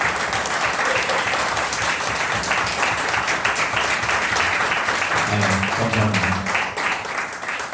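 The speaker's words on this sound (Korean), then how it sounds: "뜨거운 박수로" Warm, sustained applause from an audience for a director, dense and continuous throughout, with a brief spoken thank-you partway through.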